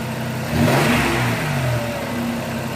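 A 1995 Toyota 4Runner with a misfiring, blubbing engine revs once sharply, the engine note rising quickly and then easing back to a rough, steady idle, close up with no talking.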